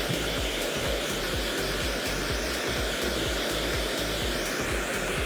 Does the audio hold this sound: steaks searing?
no